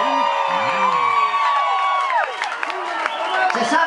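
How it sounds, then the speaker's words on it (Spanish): A rock concert audience cheers, whoops and claps in a loud, continuous roar while sustained guitar tones ring over it. "¿Les oye ese aplauso chido para las nenas que vinieron a rocarrolear esta noche?"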